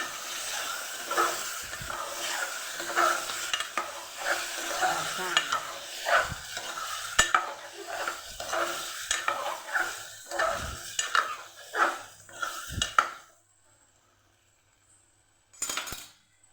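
Potatoes and val beans being stirred into sizzling masala in a pan for a Kathiyavadi sabzi, with a steady frying hiss and repeated spoon scrapes, then a sudden silence near the end.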